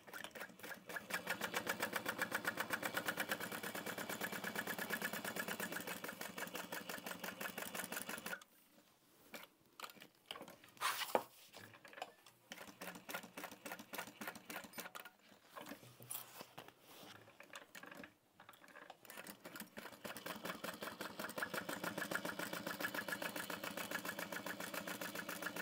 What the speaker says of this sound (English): I'm going to sew around the outside edge of both of these